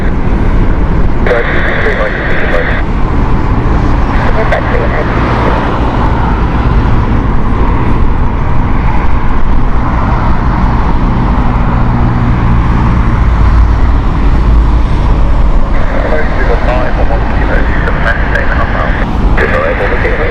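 A United airliner on approach to land on runway 27 left at Heathrow Airport, a steady broadband engine roar that holds throughout, with a voice talking over it.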